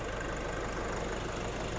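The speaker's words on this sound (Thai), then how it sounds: "สภาพเดิมเครื่องเดิมรอบเครื่องเดินนิ่ปกตินะครับ" A 2020 Nissan Navara Black Edition 2.5 pickup engine idles steadily at close range, a constant low rumble with no change in speed.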